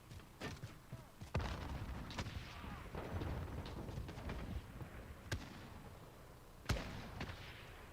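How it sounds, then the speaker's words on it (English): Scattered gunfire and explosions crackle in a video game firefight, with sharp loud blasts near 1.2, 5.3 and 6.7 seconds and lighter shots between them. Voices talk faintly under the action. "Throwing grenade!"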